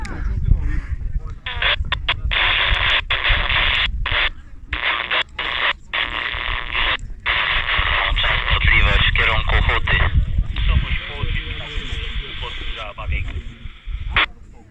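A PMR446 handheld radio on the summit of Babia Góra picks up many stations at once. Band-limited voices overlap and cut in and out in short bursts for the whole stretch.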